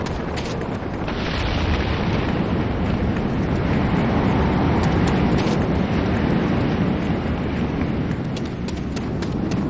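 A large structure, the Hand of Nod, blows up in the video game Renegade, producing a loud, sustained roaring rumble with crackling debris that fills the whole stretch without talk.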